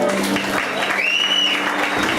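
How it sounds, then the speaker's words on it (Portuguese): An audience claps to welcome Volmir Bastos Pipe to the front at an evening church gathering, a brief steady patter of applause with a faint voice or tone rising briefly in the middle. "uma salva de palmas"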